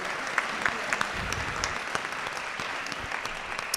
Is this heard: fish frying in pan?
no